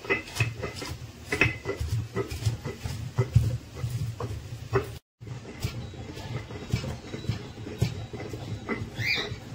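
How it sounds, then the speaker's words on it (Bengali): Poppy seeds and green chilli ground on a stone slab with a stone pestle make rhythmic scraping and grinding strokes, repeating steadily and close, broken by one brief gap. "এবার নেব আমি কিছুটা শিলনোড়ায় পোস্ত আর কাঁচা লঙ্কা। এবার এটাকে সুন্দর করে বেটে নেব।"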